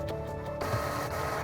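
A desktop printer prints shipping labels in a small home packing booth, a steady mechanical whir with a brief feed shift midway, close and continuous with no talking.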